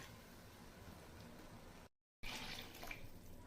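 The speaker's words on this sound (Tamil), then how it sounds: "ஜார் தண்ணி இதில் சேர்த்திடுறேன்." Water from a mixer jar poured into a simmering coconut and ladies finger gravy with cashews, a faint steady trickle and splash broken by a short pause, then resuming slightly brighter.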